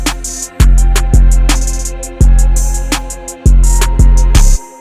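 FL Studio drum beat with an extra counter snare mixed too loud, heavy kicks and sharp snare hits repeating in a steady pattern with ticking hi-hats, loud and upfront with no voice.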